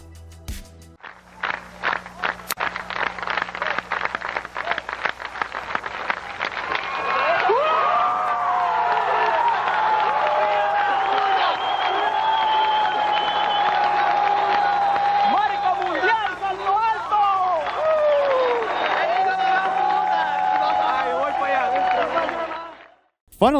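A stadium crowd roaring and cheering after Sotomayor's 2.44 m world-record high jump, a sustained loud ovation with rhythmic clapping building at the start and whistles and shouts rising over it, with announcer speech underneath.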